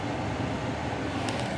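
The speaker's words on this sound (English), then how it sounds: "This is the worst kind of train to get stuck behind." A train rolls past in front of a waiting car, a steady broadband rumble and rattle heard from inside the vehicle, continuous and fairly loud.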